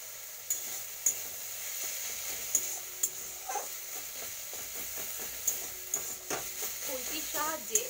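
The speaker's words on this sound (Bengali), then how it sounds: "খুন্তির সাহায্যে একটু এইভাবে একটু থেতলে দিলে দেখবে শাকটা একটু স্মুথ হয়" Red amaranth greens sizzle in a hot pan, a steady hiss broken by sharp scrapes and taps as a spatula stirs and presses them, close and clear, with a voice speaking over the cooking.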